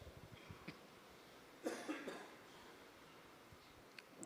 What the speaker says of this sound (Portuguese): desculpa a minha tosse aqui, estou sarando de uma gripe aí